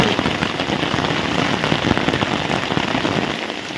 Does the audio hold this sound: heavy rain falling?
yes